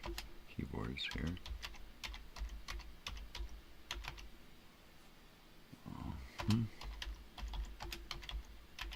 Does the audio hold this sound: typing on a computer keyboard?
yes